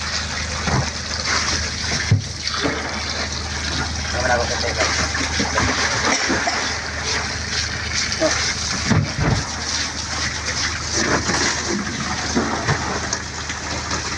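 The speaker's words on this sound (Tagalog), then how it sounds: "Ang lakas ng tubig guys oh." Cold mountain spring water gushes strongly at an outdoor bathing spot, a steady loud rushing and splashing that fills the whole clip, with occasional louder splashes and knocks.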